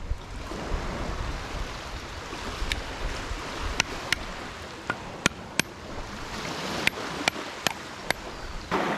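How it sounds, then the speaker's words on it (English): Running water in the Australian bush gives a steady broadband rush, close and continuous, with scattered sharp ticks and clicks over it and no talking. "can you hear that? That's water."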